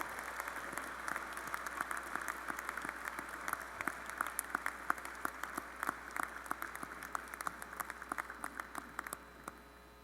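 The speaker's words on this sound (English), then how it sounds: "let's have a round of applause for all those students hooded in the College of Education and Human Development" Audience at a university graduate recognition ceremony applauds graduate students being hooded, a steady wash of many hands clapping at moderate distance throughout, with no voices over it.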